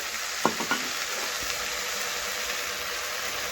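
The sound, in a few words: water added to vegetables frying in a pan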